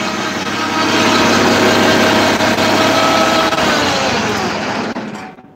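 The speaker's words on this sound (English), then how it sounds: "I'm going to shut off the tractor" A big farm tractor engine idles loud and close with a steady, throbbing rumble that holds level, then cuts off abruptly as the engine is shut down near the end.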